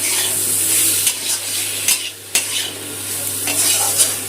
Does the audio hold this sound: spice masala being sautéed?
yes